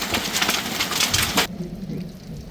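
Hail pelts a garden of pepper plants in a hailstorm, making a dense, loud, hissing clatter for about a second and a half. It then abruptly drops to a quieter, scattered patter.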